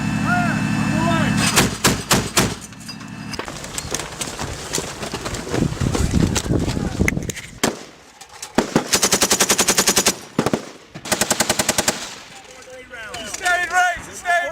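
U.S. Marines fire weapons on a training range, sharp gunshots and rapid bursts cracking out, some in fast machine-gun strings, others as heavier single blasts, loud and close with shouted commands between volleys.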